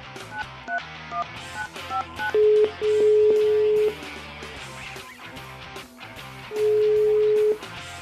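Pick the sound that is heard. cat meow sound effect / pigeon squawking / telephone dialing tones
telephone dialing tones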